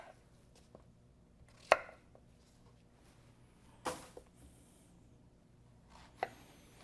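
A knife chops yellow squash on a cutting board in three sharp, well-spaced strikes against a quiet background, with faint handling noises between them.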